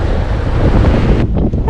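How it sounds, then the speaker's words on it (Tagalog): Rough ocean waves on the coast at Dingalan, Quezon, under strong wind, with continuous loud roaring surf and wind rumble that briefly drops near the end. "Katakot naman ng maligo pag ganyan na alon."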